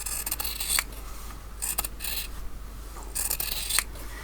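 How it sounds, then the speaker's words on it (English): Sharp fabric scissors snip through two layers of folded medium-weight cotton calico, close up, in three crisp bursts of cutting strokes separated by brief pauses. "The easiest way is just to fold it back in half and cut through 2 thicknesses at once."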